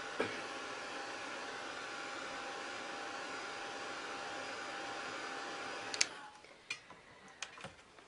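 A hair dryer runs steadily on a glued steampunk pocket watch part for about six seconds, then cuts off, leaving a few faint ticks and small handling clicks.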